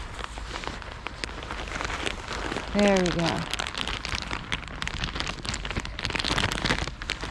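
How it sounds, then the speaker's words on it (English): Heavy rain falls steadily on a hard surface outdoors, a dense close patter running the whole time, with someone speaking briefly over it. "Wow, it's really raining."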